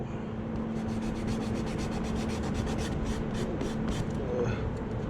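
Wet sanding a BMW 118i bumper with water and sandpaper wrapped around a sanding block makes a steady series of close, rhythmic rasping strokes, soft and continuous over a faint background hum.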